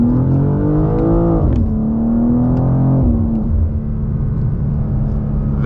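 A 2024 BMW M2 engine drones loud and steady as the car slides, its pitch sagging and climbing with throttle changes, close up and with no talking over it.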